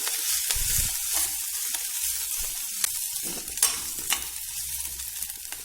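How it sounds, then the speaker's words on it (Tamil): Coconut and coriander for a mixed chutney sizzling in a pan while being stirred, a steady close frying hiss broken by occasional spoon scrapes against the pan. "இது எல்லாமே நல்லா வதங்கிருச்சு"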